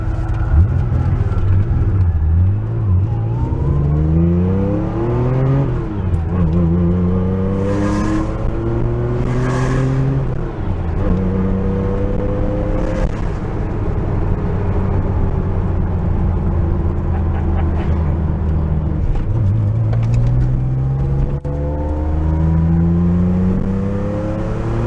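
A Porsche 911 flat-six engine runs loud and steady throughout, its revs rising and falling with a rough, stuttering beat from a missing injector, and no talk over it.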